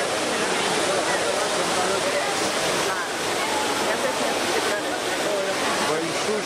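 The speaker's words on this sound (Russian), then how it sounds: "Знаменитый римский фонтан." A famous large fountain in Rome, ringed by a metal fence, sends out a steady, dense rush of falling and splashing water that stays constant throughout, close and loud like a waterfall, with faint voices nearby.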